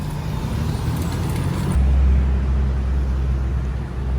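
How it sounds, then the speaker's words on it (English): Cars moving around a roundabout in Australian traffic, a steady close road rumble with engine drone that swells as a vehicle passes, no voices. "So when they're going off the roundabout, they signal that they're going left."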